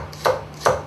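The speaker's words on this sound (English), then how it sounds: "So I'm just going to slice up the stalk so I can start making my compote" Knife slicing through a rhubarb stalk on a cutting board for compote, two crisp close chops about half a second apart, otherwise quiet.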